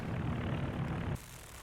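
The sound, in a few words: IL-2 aircraft shot down by IS-2 tank, Company of Heroes 2 video game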